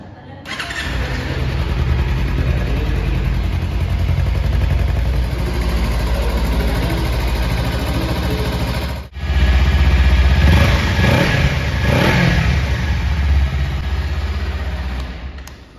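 A 2023 Kawasaki Ninja 300 motorcycle idles loudly up close, its exhaust note rumbling steadily before a brief cutout, then revving in repeated rising bursts.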